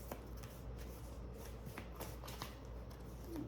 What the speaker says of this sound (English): These cards are a bit hard to shuffle because they're so big